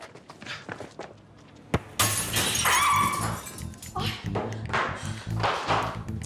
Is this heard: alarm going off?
no